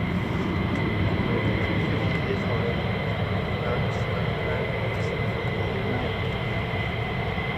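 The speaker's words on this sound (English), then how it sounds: "the aircraft just sat here on idle" A US Air Force fighter jet, an F-15 or F-35 at RAF Lakenheath, idles at the end of the runway, a steady unbroken roar with a faint high whine, while a voice talks over it.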